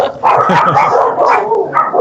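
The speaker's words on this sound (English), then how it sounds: "I don't know who they're barking at" Several dogs bark loudly and close by in a rapid, overlapping string of barks and yips that runs almost without pause.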